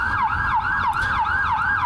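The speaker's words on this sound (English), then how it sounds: "It was an ambulance." An ambulance siren wails in a steady repeating rise-and-fall cycle, loud and close over a low rumble of traffic, with no voices.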